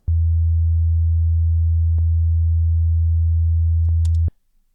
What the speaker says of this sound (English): on this channel we've just got a sine wave